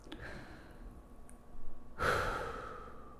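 A single deep breath, a slow audible inhale followed by a louder, longer sighing exhale, close and alone.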